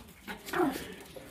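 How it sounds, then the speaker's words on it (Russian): A small Yorkshire terrier gives a short yip or bark up close, one brief sharp call with a softer sound just before it, quiet overall and with no talking. "Девочки просят, показывай собак"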